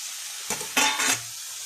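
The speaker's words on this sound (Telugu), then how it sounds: "వీటిని బాగా కలుపుతున్నామండి. మసాలాలంతా పట్టాలి మునక్కాయలకి." Fried drumsticks are stirred into a tomato masala in a pan, with a soft background sizzle under three quick scraping stirs close by and no voices.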